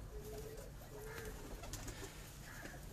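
Pigeons coo on a rooftop loft: several soft, low, drawn-out coos repeat at intervals over a faint steady background hum.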